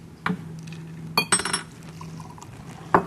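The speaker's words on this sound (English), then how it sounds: "You can pour that right over." A cocktail is poured over pomegranate seeds in a glass, with a short liquid pour, glass clinks and the clatter of bar tools in a quiet kitchen; no one speaks.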